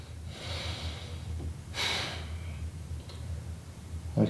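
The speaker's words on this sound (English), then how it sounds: "We're just breathing deep." Deep breaths during a low-impact, no-equipment beginner workout, with a strong inhale or exhale near the middle and softer breathing around it over a steady low hum of background noise.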